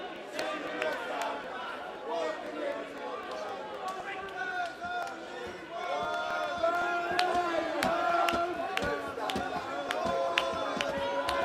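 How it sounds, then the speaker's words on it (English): A boxing crowd at the Wayne Elcock vs Howard Eastman fight cheers and roars steadily for Elcock, a dense continuous swell that grows louder partway through, with a commentator talking over it. "Crowd certainly trying to get behind Elcock here."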